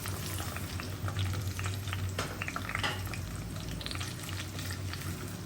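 Cinnamon, cloves and cardamom fry together in hot oil in a pan, a soft steady sizzle with faint crackles and occasional stirring, fairly quiet and without talk.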